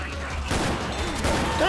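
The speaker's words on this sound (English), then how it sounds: "I'm firing the gun. Fire!" Mounted gun firing in Left 4 Dead 2, a loud continuous burst of rapid game gunfire heard briefly and close with voices mixed underneath.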